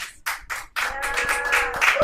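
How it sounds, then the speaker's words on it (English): Audience clapping at a live-streamed event, starting as a few separate bursts and swelling into steady, fairly close applause that continues to the end. "Please give them a round of applause."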